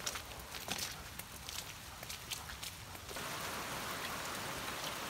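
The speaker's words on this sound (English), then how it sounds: "Pouring rain." Pouring rain falling on the ground outdoors where a German Shepherd plays, a steady broadband patter, faint and even, with some rustling steps early on and then a smoother, denser downpour wash.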